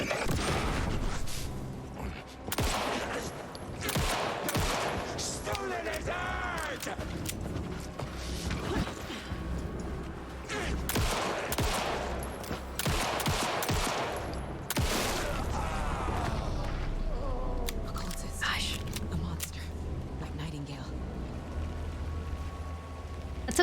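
Rapid video game gunfire in bursts, sharp repeated shots mixed with mechanical clanks and creaking effects, loud and continuous over a busy game soundtrack with no talk.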